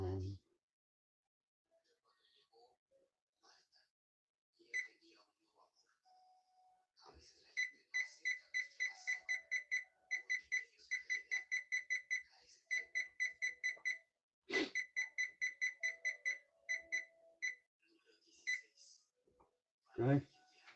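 A kitchen timer being set gives quick runs of bright electronic beeps in rapid, regular bursts, with a few scattered taps and a brief voice at the start.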